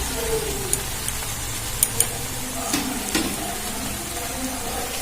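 Fried vegetables with spices, sugar and chopped coriander sizzle softly in a pan as a spatula stirs and mixes them, giving a few light scraping clicks over a steady close hiss.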